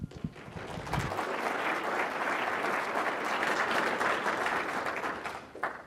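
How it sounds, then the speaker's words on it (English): Audience at a housing and sustainability summit panel breaks into full, even applause after a brief voice at the start; many hands clap steadily, then taper near the end. "And thanks for the applause."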